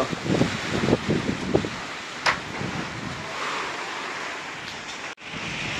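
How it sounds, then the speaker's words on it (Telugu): Strong storm wind roars steadily and loudly, with a dense broadband rush that occasionally rises in louder gusts; no one speaks over it. "వాన తక్కువ పడుతుంది. గాలి అయితే బీభత్సం."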